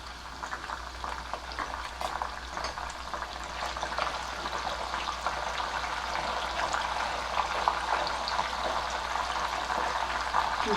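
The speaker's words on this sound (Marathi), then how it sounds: "आता मी याच्यामध्ये थोडंसं हे मिठाचं पाणी घालते" Continuous loud sizzling and bubbling of banana chips frying in hot oil as salt water is added, with crackling pops and no voices.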